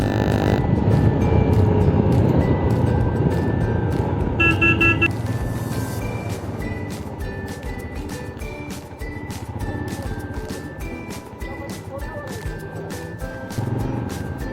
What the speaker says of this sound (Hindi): थोड़ी सी बाइक की पावर देखी जाए।